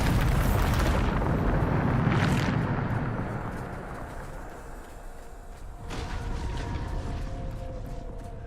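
The Bombarda spell in the Hogwarts Legacy video game sets off a loud, close explosion: a broad booming blast that swells for about two seconds, then fades into a long rumbling decay, with a second, smaller burst of rumble near the end.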